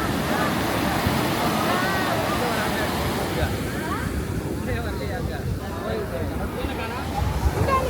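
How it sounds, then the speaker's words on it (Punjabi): Ocean waves crash and roar continuously nearby on the Coromandel Coast at Mahabalipuram, mixed with heavy wind buffeting the microphone and faint voices in the background. "ਉਹ ਛੱਲਾ ਬਹੁਤ ਤੇਜ਼ ਹੈ"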